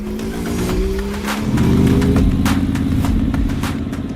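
A Porsche race car engine roars up close, revving and climbing in pitch, loud and continuous with a sharp rise partway through.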